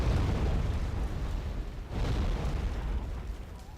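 Bombs explode in the video game Wargame: AirLand Battle, giving dense, rumbling blasts with a heavy low roar and a fresh burst about midway, moderately loud and without talk.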